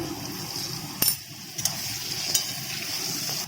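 Potato pieces fry in oil in a pan with a little turmeric and salt, giving a steady, faint sizzle broken by a few sharp utensil clinks and scrapes as they are stirred.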